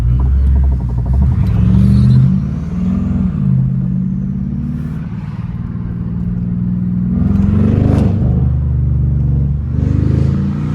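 A BMW 550i with catless downpipes and a straight-piped exhaust rumbles loud and close, its deep engine note swelling and easing through several revs over about ten seconds, with no voices.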